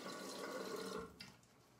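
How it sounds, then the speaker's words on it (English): Water runs from a tap into a tub of Oxford and Cambridge lavender shaving soap, a quiet, close trickle for about a second. It then fades into a few faint drips and splashes. "I'm gonna add some water to the pasty."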